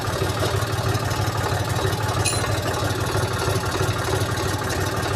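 A walk-behind tractor engine idles steadily with its rotary tiller raised, a loud, even, close mechanical drone with constant vibration and no break.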